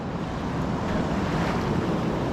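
High, fast water in a Lake Ontario tributary rushes past as a loud, steady, close roar with no talk.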